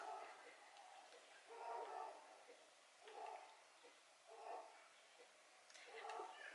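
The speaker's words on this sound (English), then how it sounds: "that's the sound of a dog" Faint barking from a neighbor's dog some distance away repeats in several muffled bursts over a steady background hiss.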